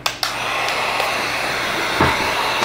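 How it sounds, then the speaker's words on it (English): A hot air blowgun roars steadily and close as it blows into a candle mold, a loud continuous rushing hiss after a brief start, alone. "I have a hot blowgun,"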